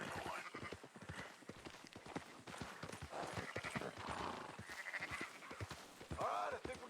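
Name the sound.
horse hooves while riding, from the video game Red Dead Redemption 2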